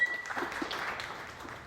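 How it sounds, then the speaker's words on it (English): Audience applause for debate participants at a Class XI school debate, a soft, fairly brief burst of clapping that fades gradually. "let's give a huge round of applause to our amazing participants and, of course, to our fantastic audience"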